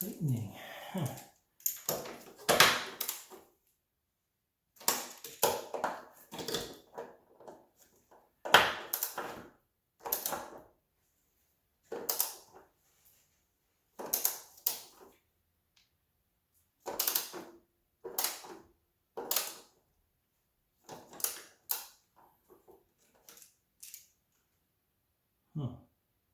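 A bolt is tightened while a strut bar goes into a car, giving bursts of clicking ratchet and metal-on-metal scraping spread across the span with quiet gaps between them. A person talks at times alongside the work.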